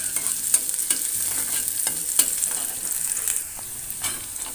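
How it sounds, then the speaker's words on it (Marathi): Onion and chillies sizzle in oil in a home kitchen while a utensil stirs them, scraping and clinking in a quick irregular rhythm over a constant close crackle, with no talk. "तर इथे मी तेलामध्ये कांदा आणि मिरची टाकले."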